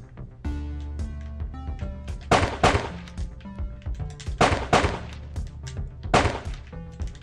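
Gunshots in the video game Screencheat ring out as a few loud, sharp blasts spaced a couple of seconds apart, each with a short ringing decay, over a steady tonal game soundtrack and no talking.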